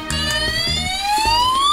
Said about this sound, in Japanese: サイレンも鳴っちゃうぞ。